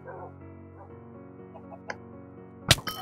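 A chicken clucking in Minecraft's Hypixel Farm Hunt game, a couple of short clucks near the end over a quiet background of game music and sound.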